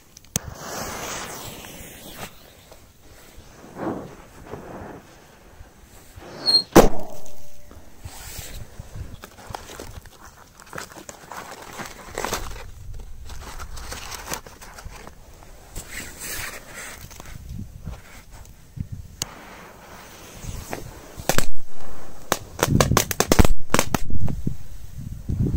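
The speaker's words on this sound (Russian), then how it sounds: "Вот это классная петарда." Sharp firecracker bangs pop at irregular intervals outdoors around ice, some loud and close, others fainter, with scuffling steps and rustling between blasts.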